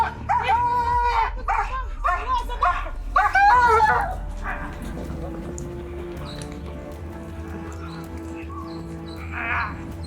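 Border-guard police dogs in apprehension training bark in loud, rapid bursts of yips and whimpers for the first few seconds. A fainter bark follows later over a low steady hum, with people's voices mixed in.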